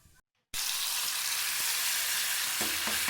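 Black masala paste with a bay leaf and cumin sizzling in a pan, bursting in loudly after a brief silence into a dense, constant hiss with faint stirring taps.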